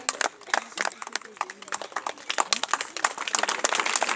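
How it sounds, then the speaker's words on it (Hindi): Applause at a school academy's first annual function as children go up to collect prizes, a room of people clapping in uneven bursts at moderate loudness, with talk mixed in over it. "जोरदार तालियों के साथ इन बच्चों की सराहना की जाए"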